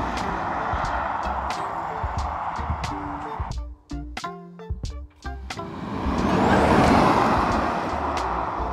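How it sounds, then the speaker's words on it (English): Tesla Model 3 Performance accelerating hard from 0 to 60, heard from outside: steady road roar with a brief lull, then a swelling whoosh of tyre and motor noise building as the car pulls away. "we need to see what does the acceleration look like from outside of the car"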